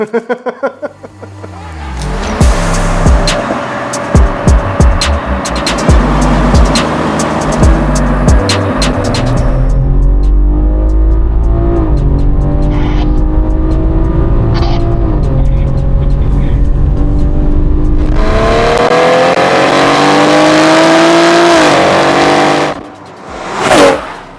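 A Stage 3 tuned BMW M340i accelerates hard through several gears, loud rising engine pitch with clear upshift breaks, then revs again near the end.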